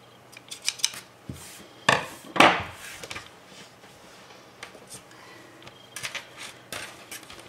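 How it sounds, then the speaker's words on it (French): Small snips of scissors trimming little threads on a handmade fabric mask, a few crisp cuts close by with soft handling and rustling between them, some louder clicks midway. "Donc, je vais couper mes petits fils."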